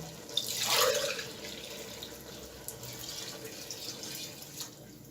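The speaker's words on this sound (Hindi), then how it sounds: "चावल डालने के बाद इसके अंदर मैं पानी ऐड कर रहा हूँ।" Water splashes into a pot of raw basmati rice in a brief louder pour, then trickles and gurgles quietly for several seconds.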